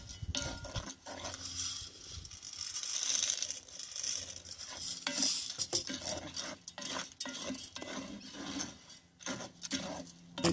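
Corn roasting in hot sand for toasted cornmeal is stirred by hand, producing a gritty, scraping rustle in irregular strokes close by, with occasional sharper knocks and no talk.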